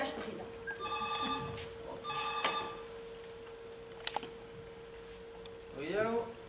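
A telephone rings twice on stage during a theatre performance of Yasmina Reza's "Le Dieu du Carnage": bright, trilling bell rings over a steady hum and room noise, followed by a brief voice near the end.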